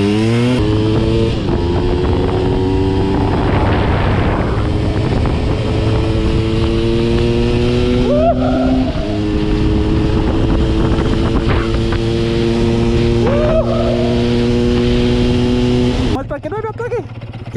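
Yamaha DT 200 two-stroke motorcycle engine running loud and close, idling with a buzzing tone and revving up in two distinct rising throttle blips before the sound cuts off abruptly near the end.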